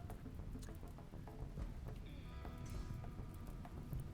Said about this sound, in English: Cool, there's some rain.